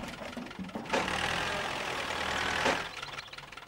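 A toy tractor in a children's cartoon idles with a soft mechanical rumble that swells suddenly, holds steady for a couple of seconds, then fades back down.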